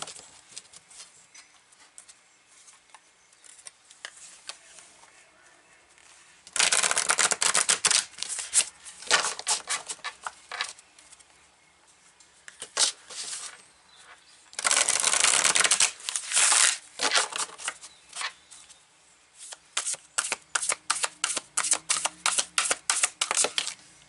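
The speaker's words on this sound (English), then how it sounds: "then we're going to continue drawing cards" A deck of tarot cards is shuffled by hand in several loud, close bursts of riffling and flapping. Quieter handling and card taps fall between the bursts, and a rapid series of snaps comes near the end.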